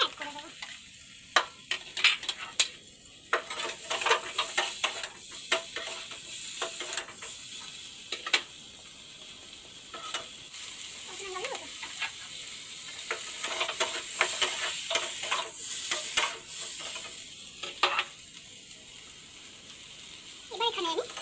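Capsicum for paneer ghugni fries in a pan with a bright continuous sizzle, broken by repeated spoon-scraping and stirring strokes at irregular intervals, close and fairly loud.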